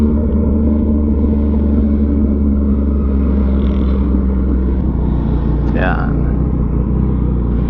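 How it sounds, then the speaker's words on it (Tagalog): A loud motorcycle exhaust while riding on the road, a constant low droning rumble with steady engine tone throughout, a brief higher whine near the end, and a rider talking over it. "ang ingay po ng tambutso natin"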